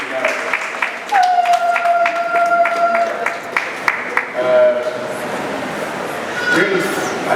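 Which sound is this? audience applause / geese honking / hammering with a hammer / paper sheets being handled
audience applause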